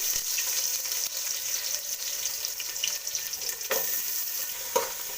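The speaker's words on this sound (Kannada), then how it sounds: "ಸ್ವಲ್ಪ ಫ್ರೈ ಮಾಡ್ಕೋತೀನಿ." Steady hiss of three onions frying in hot oil in a wok, continuous and close, with a couple of brief clinks or stirring knocks partway through.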